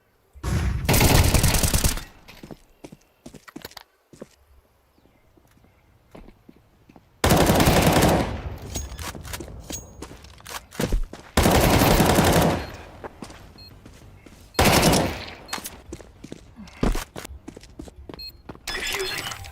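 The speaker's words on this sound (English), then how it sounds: "Dia nembak sambil jalan lah temennya." Automatic gunfire rattles from a character firing while walking in a video game, arriving in several loud bursts separated by quieter stretches of scattered game sounds.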